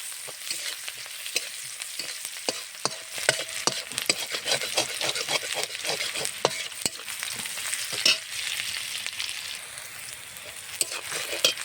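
Chopped onions with chillies frying in a pan while being stirred, a steady close sizzle with frequent scraping and clicking of the spoon throughout.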